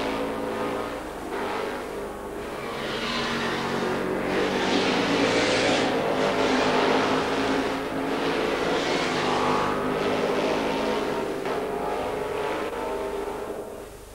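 Formula 5000 race cars at the 1978 Adelaide 100, engines roaring steadily and loud throughout, with a continuous swelling drone of several cars racing past, no talk.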